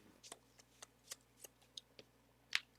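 Magic: The Gathering cards being shuffled by hand at a tabletop game, a series of quiet, crisp riffle snaps spaced about every quarter second, ending in one sharper, louder flick, with a faint steady hum underneath.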